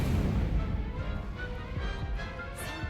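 Incendio fire spell cast in the video game Hogwarts Legacy, a dense, continuous roaring burst of crackling fire and rumbling impacts sustained at steady loudness, with brief sparkling flares near the end.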